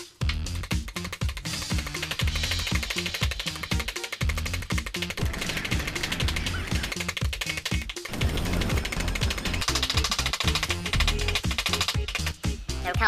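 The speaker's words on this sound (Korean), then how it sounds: "이렇게 한 5분 정도 망치로 두드려줬습니다." Rapid, repeated metallic hammer strikes on a ball of aluminum foil ring out in a dense, steady rhythm, close and loud, with only brief pauses between bursts.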